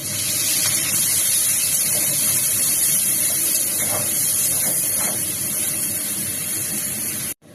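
Onions dropped into hot oil already holding cloves, cinnamon and cardamom, giving a loud, dense, continuous sizzle and hiss close up that holds steady for several seconds before cutting off abruptly.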